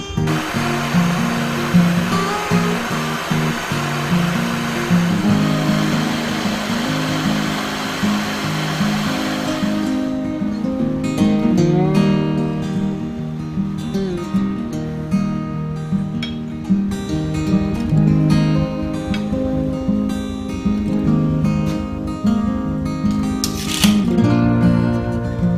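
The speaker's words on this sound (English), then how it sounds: "we're going to use a little bit of heat, MAP gas torch, and heat the center of this" A MAP gas torch heats a metal pipe, giving a steady, loud roaring hiss for the first ten seconds, then a lower continuous burner rumble while clanks and scraping ring out.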